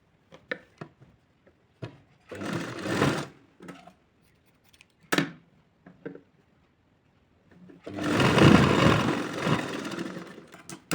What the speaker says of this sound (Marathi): आपण शिलाई मारताना याच कडेच्या बाजूने शिलाई मारून घेणार आहोत